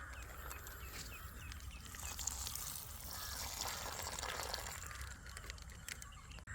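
Cold Milma milk poured in a steady, soft, continuous stream, fairly faint and close, with no other sounds over it.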